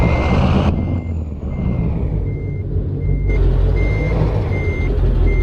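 Truck reversing alarm in American Truck Simulator, a steady series of evenly spaced beeps repeating over a loud, constant diesel engine rumble, close and continuous with no talking.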